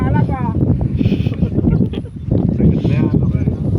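Gusty wind buffets the microphone with a low rumble while people talk over it.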